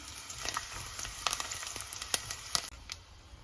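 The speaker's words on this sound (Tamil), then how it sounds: "கடுகை எண்ணெய்க்கு போடுறேன் எண்ணெய் சூடாயிட்டுது கூடவே நான் இதில் எடுத்து வச்சுக்கிற பெருஞ்சீரகம் வெந்தயம் கருவேப்பிலை எல்லாத்தையும் போடுறேன்" Mustard seeds, fennel, fenugreek and curry leaves sizzle in hot oil. Steady frying hiss is dotted with sharp pops and crackles as the seeds burst, fairly close and without talk.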